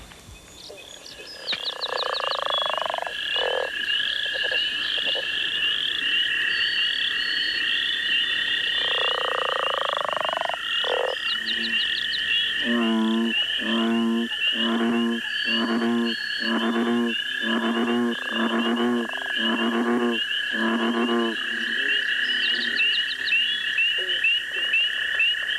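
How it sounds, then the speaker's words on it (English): A small adult coarse frog calls loudly and close, starting with a few drawn-out croaks and then breaking into a rapid series of pulsing, rhythmic trills. "This little coarse frog is a fully mature adult. Listen to the amount of sound he produces."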